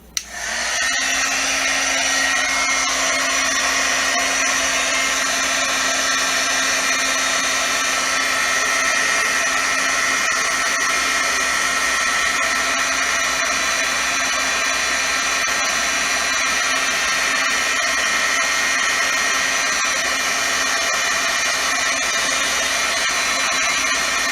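An electric heat tool blows steadily for the whole stretch, heat setting alcohol ink and Sharpie artwork on a white card; its loud, even whine and airflow roar run alone without pause.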